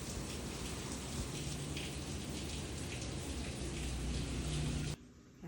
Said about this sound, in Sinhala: වැස්ස ඉවරයක් නැහැ ඉතින්